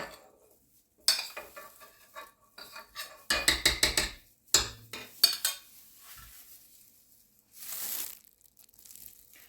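Whipping cream with powdered sugar, butter and mascarpone in a bowl: scattered clinks and scraping rattles of the whisk against the bowl come in uneven bursts, with quiet gaps between strokes.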